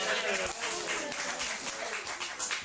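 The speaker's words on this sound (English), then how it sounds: "give them a big round of applause for an excellent job" An audience at a children's birthday magic show applauds, a dense spread of clapping that stays fairly steady for a few seconds at moderate level.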